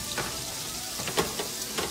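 Fish dredged in seasoned flour fries in a skillet, giving a steady soft sizzle and crackle with a few sharper pops, heard close and alone.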